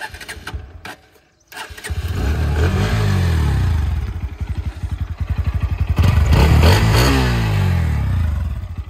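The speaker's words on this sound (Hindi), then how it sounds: "तो चलिए भाई बाइक के इंजन को ऑन करते हैं" A Bajaj Pulsar NS160 motorcycle engine cranks and fires up after a brief pause, then settles into a loud, throbbing idle with a rhythmic exhaust note and a revving swell.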